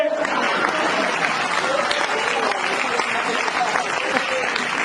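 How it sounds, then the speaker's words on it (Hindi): A crowd claps through a lively live storytelling performance, a dense, even patter of applause that holds steady for around five seconds, with voices faintly mixed underneath. "आप लोगों ने गलत जगह ताली बजा दी"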